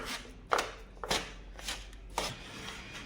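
Cement paste being mixed by hand in a laboratory consistency test, heard as several scraping, slapping strokes at an uneven pace, close by, with a low steady hum underneath.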